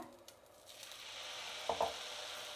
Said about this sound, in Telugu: ఇప్పుడు సెట్ దోశ వేసుకుందాము